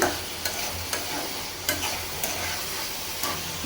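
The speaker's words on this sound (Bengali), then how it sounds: "বড়ি আর আলুটার সাথে ভালো করে কষাই নিচ্ছি" Lentil dumplings (bori) and potatoes sautéing together in a pan for a fish curry, a steady close-up sizzle with soft stirring scrapes recurring every second or so, no voices.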